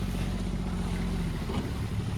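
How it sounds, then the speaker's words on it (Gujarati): A boat drawing close on the water, a loud steady low engine drone mixed with wind buffeting and water wash, continuous and near with no break. "આવ નજીક બોટ આવી ગઈ"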